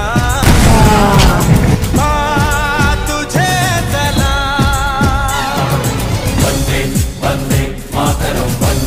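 Bombs burst in a rapid barrage of loud, booming blasts over a busy musical soundtrack, with repeated heavy thuds packed close together throughout.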